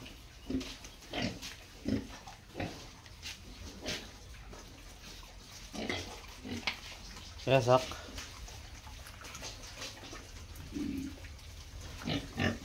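Pigs in a pig-farm shed grunt in short, irregular bursts close by while a person talks throughout, with a louder cluster of squealing grunts partway through.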